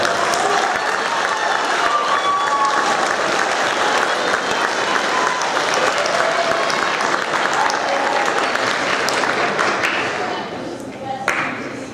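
Audience applause fills a school awards ceremony for eighth graders, dense and steady for about ten seconds before it thins and tapers off, with some voices mixed into the crowd.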